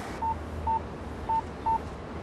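An early-1990s GSM mobile phone gives four short, evenly pitched keypad beeps as a PIN is entered, spaced irregularly, close and clear over a low background hum.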